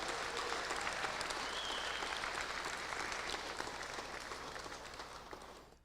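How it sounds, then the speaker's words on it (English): An audience at a National Native American Hall of Fame event gives a sustained round of applause, a thick steady clatter of many hands that gradually thins and fades out near the end. "if we can also give a round of applause to Peg Gerard"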